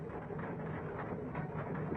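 Old steam rack locomotive in Ambarawa, a steady dense rumble of a train in motion with continuous mechanical rolling noise, fairly loud and close throughout.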